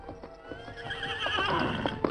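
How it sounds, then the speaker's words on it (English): Injured horse giving a short whinny while its hooves clop unevenly nearby, close and fairly soft, no speech. "The gallant horse hobbled to the side of its fallen master"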